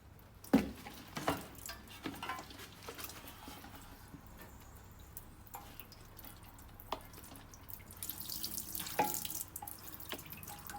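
Engine parts are rinsed under a running tap to wash out metal shavings during an oil-leak repair. Faint splashing and trickling come in uneven bursts, with a few sharper knocks.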